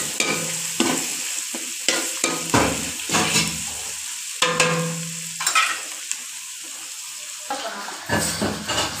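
Whole spices, a bay leaf, cinnamon and cloves, frying in oil in a pan while being stirred, with a loud, close sizzle and repeated scraping strokes.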